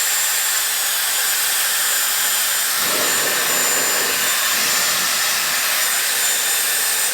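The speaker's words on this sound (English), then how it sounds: "you can totally fully blow dry your hair with this one in just a few minutes" Dyson Airwrap hair dryer blowing steadily and loudly for the whole stretch, a constant high airy rush with a slight shift in tone partway through, no voices.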